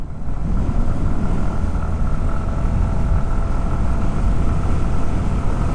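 A TVS Jupiter 110 scooter engine drones with a steady motor hum that runs without a break, loud and close, with a buzzy low rumble and no voices over it.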